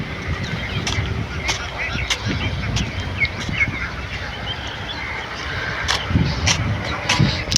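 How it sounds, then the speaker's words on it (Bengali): A flock of ducks kept at a temporary duck farm beside a fish pond in Dhamrai, Dhaka, honks and quacks continuously and fairly loudly nearby, with a voice speaking under the birds at times. "এখানে আপাতত তাঁবুটা নিয়ে চাষ করা হয়েছে হাঁসের।"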